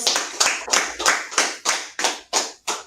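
Claps from a class after a heavy workout session, eight or nine sharp, fairly evenly spaced hand claps rising in loudness, close by, with no talk over them.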